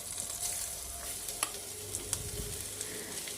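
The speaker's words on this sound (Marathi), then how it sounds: "त्यामध्ये आपल्याला रताळ्याचा किसलेला किस घालायचा आहे। तोही आपल्याला चांगला परतून घ्यायचा आहे।" Grated sweet potato sautéed in oil in a kadai makes a steady close sizzle, with stirring scrapes and a few sharp clicks of the spatula against the pan.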